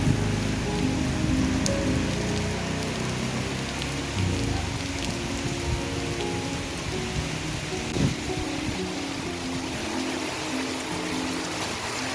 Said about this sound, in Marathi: जोरदार पावसाला सुरुवात झाली